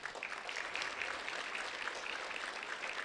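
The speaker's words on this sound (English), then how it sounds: "Round of applause for Lieutenant Pikulis." A crowd claps for Lieutenant Pikulis of the Youth Services Division at a Do The Right Thing event, steady moderate applause heard at a distance for about three seconds.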